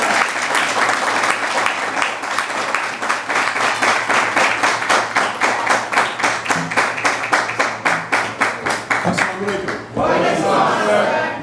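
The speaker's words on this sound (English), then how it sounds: "I would like to bring him up with a long, hard round of applause" A crowd at a religious address bursts into loud, sustained applause, dense clapping that thins into rhythmic, unison claps, with faint shouts mixed in before it fades near the end.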